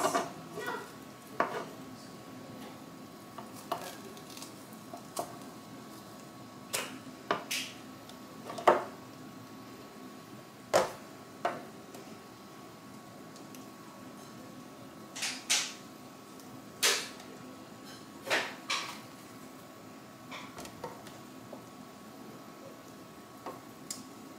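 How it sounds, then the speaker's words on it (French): Knife cutting fresh strawberries in half on a board for a no-bake cake, a sparse series of sharp, close taps and clicks at irregular intervals over a faint room hum. "Je vais couper mes petites fraises"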